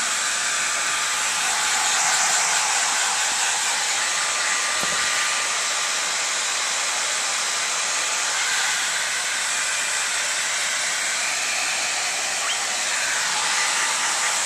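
A hair dryer on a low setting dries a long-haired guinea pig, blowing as a steady, loud, close whoosh that runs without a break for the whole stretch, with no voices.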